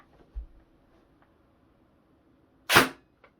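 An Ares 308L Deluxe airsoft DMR fires one sharp shot near the end, preceded by a soft low thump and followed by a faint click, in an otherwise quiet indoor space.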